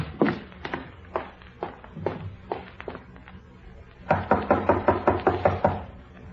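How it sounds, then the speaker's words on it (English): Knocking on a bedroom door: a few spaced single knocks, then a faster, louder run of about ten raps close by, with no talk. "When there was no answer to their knocking"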